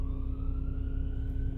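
An ambulance siren sounds amid traffic on a street in the Coquitlam area of Vancouver, B.C., a steady tone over a loud rumble of engines that continues throughout.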